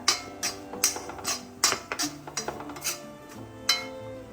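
Spoon clinking and tapping against a bowl while stirring a ground coriander spice mixture for a Kerala tea snack, a quick irregular series of sharp metallic taps close by, no talk.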